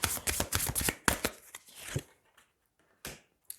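A deck of cards shuffled for a tarot-style card reading, several brisk riffling bursts close by, then a pause and two short shuffles, with no talking.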